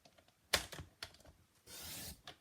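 A paper trimmer cuts a card along its cutting track, a few sharp clicks and taps followed by a brief soft scraping slide of the blade, faint and close.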